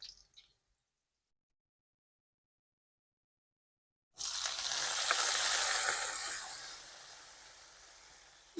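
Vaseti greens hit a hot pan of browned onion, going from near silence to a loud, bright, steady sizzle that slowly eases over several seconds.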